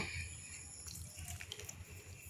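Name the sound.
water poured into bowl of soaked semolina batter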